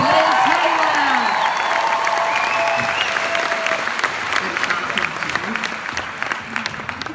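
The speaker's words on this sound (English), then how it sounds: "Give them a big round of applause." Loud crowd applause with cheers and whoops from a business event audience, dense at first and thinning slightly toward the end, with voices calling out over the clapping.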